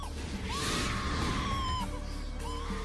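A woman screams after a baboon grabs her baby, a sustained high wailing cry that breaks off and resumes, heard over a loud rumbling background with sharp crash-like bursts.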